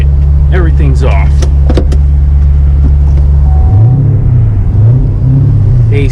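Twin-turbo Camaro cruising with traction control off: a loud, steady low engine drone that shifts pitch partway through, with faint turbo whistle, and voices talking over it.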